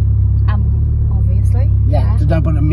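A 400bhp Ford Escort RS Cosworth idles with a steady low engine drone throughout, loud and close inside the car, while people talk over it.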